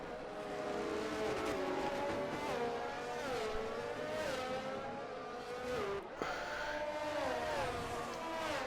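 Several F1 22 race cars at Spa in a video game, engines screaming steadily with repeated upshifts and falling pitch sweeps, loud and continuous with a brief dip near the end.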